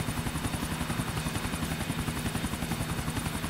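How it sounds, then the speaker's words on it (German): Helicopter in the video game GTA IV, a steady rhythmic rotor chop with a constant engine whine, held at moderate level throughout without talk. "ich verliere den Hubschrauber gleich wieder"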